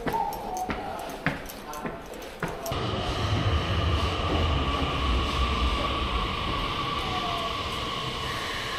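A Japanese train pulls away toward Yokohama station: a few sharp knocks and clatters, then a steady, loud rumble of the moving carriage that fills the rest of the ride, with no voices over it.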